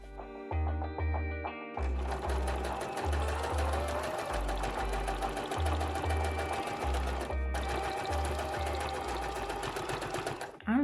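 A small sewing machine stitches through eight layers of denim in fast rhythmic bursts of mechanical clatter, pausing briefly between runs. The machine is close and fairly loud.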